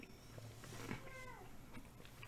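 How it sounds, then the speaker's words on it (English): A house cat meows faintly once or twice, a short rising call set back from the microphone in a quiet indoor room with low background hum. "And he meowed again."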